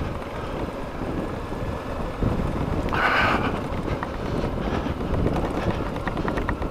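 Steady, loud wind buffeting a motorcycle helmet while riding on dirt roads, a constant low roaring rush with brief gusty swells and no voices.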